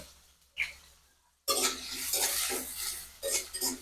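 Onion greens and green chillies are stirred in a pan, with a brief scrape, a pause, then a burst of sizzling and repeated spatula scrapes against the metal, fairly close and moderately loud.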